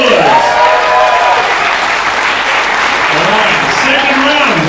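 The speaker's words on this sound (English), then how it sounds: "Give him a big round of applause." Audience at a comedy roast battle grand final in Australia applauds steadily and loudly throughout, with cheering voices and a host speaking over the clapping.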